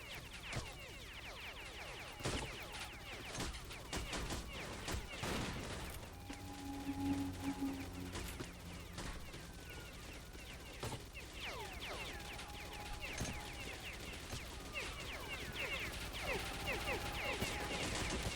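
Enemy gunfire cracks through a wooded area in the shooter game Stalker: Clear Sky, with sporadic sharp shots and short bursts scattered across a steady ambient background.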